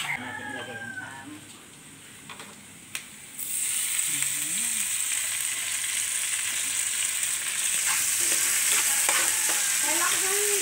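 Ham frying in a pan with garlic, a steady bright sizzle that swells loudly after a quiet start, with light stirring clatter and a rooster crowing faintly in the background.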